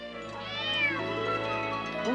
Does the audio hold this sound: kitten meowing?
yes